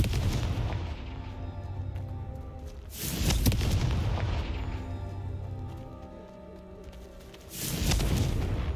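Confringo blasting spell explosions in Hogwarts Legacy, three loud booming blasts spaced a few seconds apart, each with a sharp onset and a rumbling decay over a low ambient hum.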